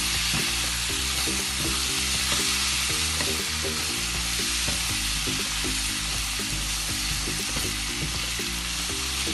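Minced meat qeema karahi sizzles and fries steadily in a pan, with repeated scraping and clattering stir strokes against the metal throughout.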